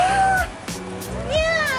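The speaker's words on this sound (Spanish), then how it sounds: "Hace mucho no agarro un gato." A cat meows several times up close, sharp rising and falling cries, while someone talks excitedly over it.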